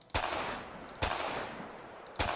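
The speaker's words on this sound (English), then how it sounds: "Okay, so a standard 9mm pistol" Three sharp 9mm pistol shots in FiveM, evenly spaced about a second apart, each a loud crack with a short decaying tail, no voices.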